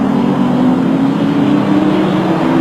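Racing motorcycles, one a Yamaha, in a road race at Carnaby: a loud, continuous engine drone holding a fairly steady pitch and slowly rising, with no voices.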